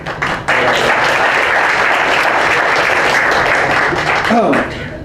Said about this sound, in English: So round of applause for